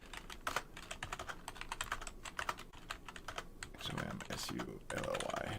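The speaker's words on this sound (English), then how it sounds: "So I'm going to type these out really quick so I can copy them over." Quick bursts of typing on a computer keyboard, crisp and close, with rapid uneven key clicks and a few brief pauses, while faint voices murmur in the background.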